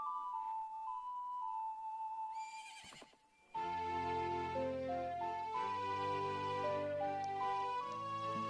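A horse neighs in the video game The Legend of Zelda: Majora's Mask, a short whinny heard over a steady melodic game tune that fades briefly and then returns fuller.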